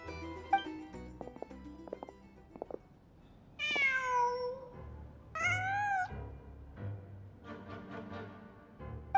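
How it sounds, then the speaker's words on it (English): A cat in Genshin Impact meows twice, clear and close, each call a rising-then-falling wail, over a soft game ambience with light clicks and a low hum. "Just a cat."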